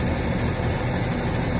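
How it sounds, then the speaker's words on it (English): A motorhome leveler lifts the vehicle at a campsite with a steady, unbroken mechanical whir and hum. The sound is close and fairly loud, with no voices. "Now lifting up the motorhome a little bit."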